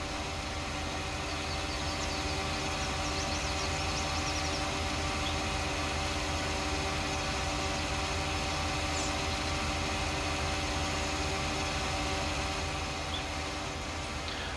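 A big tractor in a Farming Simulator game idles in a steady, unbroken low hum that stays constant and moderately loud throughout, with no talk over it.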